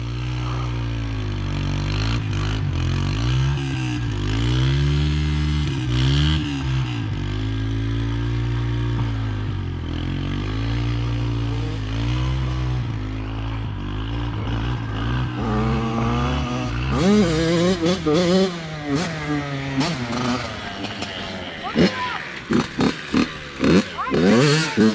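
Yamaha TTR dirt bike engine revving and idling up close in the rain, with fluctuating throttle and a run of sharp, choppy revs near the end, voices talking over it.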